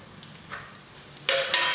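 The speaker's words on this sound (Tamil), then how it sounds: "வெங்காயம் போட்டு வதக்கலாம்." Onions drop into hot oil in a pan with garlic and curry leaves for an egg curry, starting a loud, steady sizzle with stirring sounds that lasts to the end after a quieter stretch.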